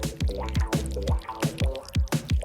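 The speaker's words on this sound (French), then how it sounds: "Tout d'abord, ajoutons du miel." Honey poured during a craft project makes a quick run of close, wet, gloopy plops and drips in a steady rhythm, several per second, with no talk over it.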